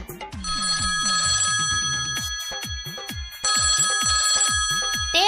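A telephone rings with a bright, electronic, repeating tone in two bursts, close and fairly loud, over a background of rhythmic folk music.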